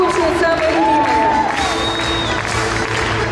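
An award ceremony crowd applauds and cheers for a recipient, with steady dense clapping and some whoops, while a voice carries over the noise.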